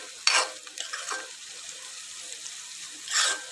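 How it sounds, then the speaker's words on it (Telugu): Onions and green chilies frying in oil in a pan for a shrimp curry, with a soft steady sizzle broken by a few brief louder scraping stirs near the start and end. "ఆనియన్స్, పచ్చిమిర్చి మంచిగా ఆయిల్లో ఫ్రై అవ్వాలి."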